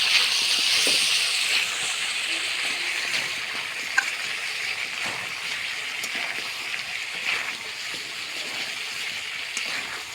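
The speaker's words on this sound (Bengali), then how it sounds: "দেখুন কত সুন্দরভাবে কষে নেওয়া হচ্ছে। যত কষাবে তত মজা।" Desi chicken and potato curry sautéing in a pan after a heavy storm, giving a steady, close sizzling hiss that runs unbroken throughout with small crackles and a faint clink near the middle.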